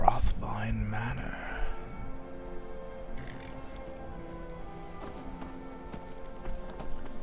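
A horse's hooves clip-clop in the Skyrim video game, giving a quiet, steady galloping patter under a faint game soundscape, with a brief voice at the start.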